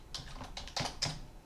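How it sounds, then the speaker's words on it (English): Typing on a computer keyboard while a web-page citation is entered into an APA citation generator, a few soft clustered key taps with slightly louder strokes near the end, close and quiet. "you type in the name of the article"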